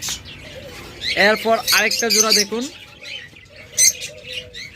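Cockatiels and lovebirds chirp in short bright bursts, some close and loud, while someone talks over them for much of the time.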